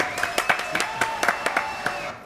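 Studio audience applauding on a French TV show set, a steady patter of many hands clapping at moderate distance for a couple of seconds before it fades out.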